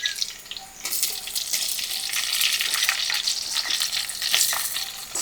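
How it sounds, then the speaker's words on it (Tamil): Chopped onions sizzle as they fry in hot oil in a pan, alongside dried fish rice being cooked in a village style. The frying hiss is loud and close, with scraping as the onions are stirred. Nobody speaks. "அடுத்ததாக சின்னதாக கட் பண்ணி வச்ச வெங்காயத்தையும் சேர்த்துருவோம்"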